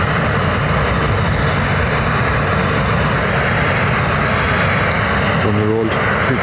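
EasyJet airliner at Lanzarote Airport, a loud continuous engine roar filling the whole stretch, with a brief tonal burst near the end.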